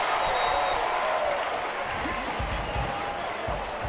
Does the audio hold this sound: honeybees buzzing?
no